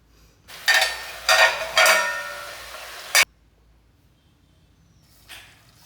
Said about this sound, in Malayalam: ഇനി ഇതൊക്കെ നല്ലപോലെ ഇളക്കി ഒക്കെ മസാലയ്ക്ക് എല്ലാ കഷ്ണത്തിലേക്കൊക്കെ ചേരട്ടെ.